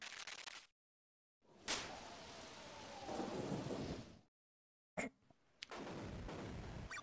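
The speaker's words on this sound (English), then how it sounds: "It really is a thunder and a lightning out there." Thunderstorm in the video game Pokemon Mystery Dungeon: Explorers of Sky, with steady rain hiss broken by loud thunder cracks and rumbles, separated by short stretches of silence, with no voices.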